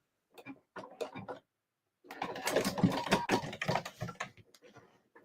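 A sewing machine stitching fabric for a bag project, with a few short stuttering bursts followed by a longer run of fast mechanical clatter that slows and stops, close and fairly loud with no voices.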